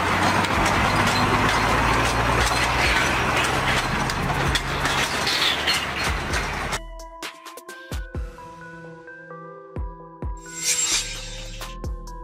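A lightweight railbus on a rural line rumbles steadily for several seconds, then gives way to quieter clicks and a few short tonal beeps.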